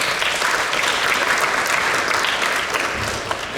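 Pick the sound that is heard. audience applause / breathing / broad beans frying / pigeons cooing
audience applause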